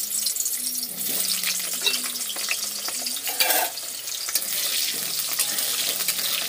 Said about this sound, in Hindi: मेरा तेल गर्म हो चुका है, अब इसमें हम आलू को फ्राई कर लेंगे